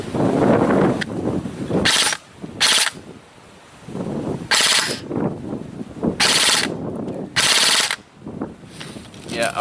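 Full-auto bursts from an E&L AK104 airsoft rifle running on an 11-volt battery at roughly 1200 rounds per minute: five or six loud, sharp bursts, each lasting about half a second, separated by gaps where someone talks.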